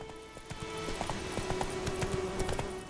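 Steady clip-clop of horse hooves at a brisk trot in the video game The Witcher 3 on PS4, evenly spaced footfalls over a constant background hum, up close.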